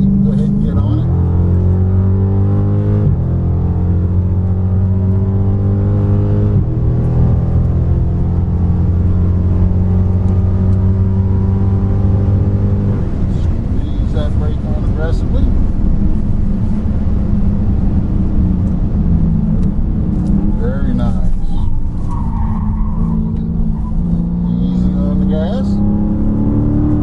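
A 2015 Dodge Charger SRT on the Summit Point Motorsports Park track, its engine droning and rising in pitch through repeated accelerations, heard from inside the car while an instructor talks over it.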